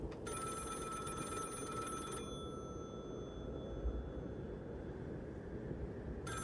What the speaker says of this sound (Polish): Gdzie ten telefon dzwoni?